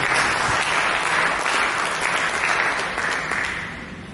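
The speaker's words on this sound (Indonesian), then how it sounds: "Ayo kita berikan tepuk tangan kepada Yesus" A church congregation claps together in loud, sustained applause for Jesus during a service, steady throughout before easing off slightly at the end.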